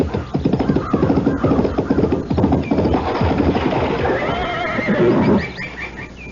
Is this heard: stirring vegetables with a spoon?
no